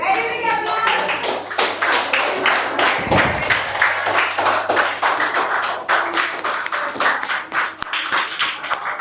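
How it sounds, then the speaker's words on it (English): Students at a quiz competition clap for the participants, sharp uneven hand claps from a small group, close and fairly loud, with a few heavier thumps and occasional voices mixed in. "Very big applause"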